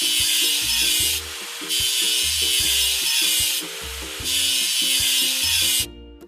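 Scrubbing rust off a cargo truck in a children's video game makes three long, loud bursts of abrasive rasping, separated by short gaps, over a bouncy background music loop that ends abruptly.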